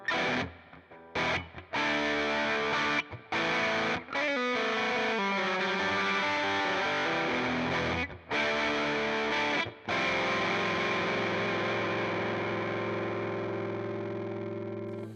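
A heavily distorted electric guitar through a Mr. Black Thunderclaw distortion pedal, all knobs at noon, plays loud sustained chords with a few brief pauses, ending on a long ringing chord that slowly fades.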